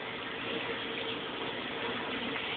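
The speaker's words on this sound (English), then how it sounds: "Let me rinse this off." Running tap water pours steadily into a sink as something is rinsed off, a continuous close rushing hiss with no breaks.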